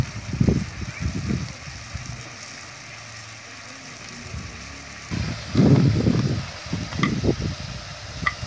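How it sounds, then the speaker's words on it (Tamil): Tomatoes sizzle in a hot pan while being cooked down for a Tamil-style crab soup, with bursts of frying and stirring scrapes coming and going between quieter stretches. "தக்காளி வதங்கிடுச்சு."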